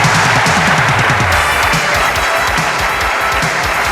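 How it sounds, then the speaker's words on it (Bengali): Audience applause at a Bangladeshi television variety show as guests, two men and three women, come onto the stage: steady dense clapping filling the whole stretch at close range, with no talk over it. "আপনারা মঞ্চে চলে আসুন, তাদের জন্য করতালি।"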